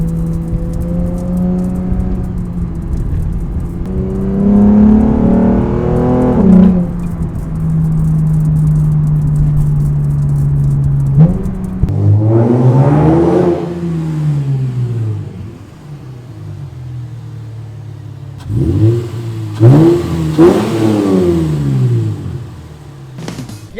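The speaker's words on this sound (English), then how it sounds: "I forgot how good it feels to drive the Lexus" A Lexus car engine revving and rumbling while driving, with a long steady drone that rises in a few sweeping accelerations before falling back, heard close and fairly loud.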